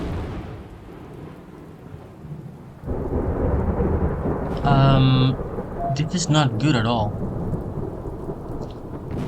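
Video game thunderstorm in a wilderness setting with a black smilodon, heavy rain hissing steadily and a loud rolling thunder surge partway through, while someone speaks over it.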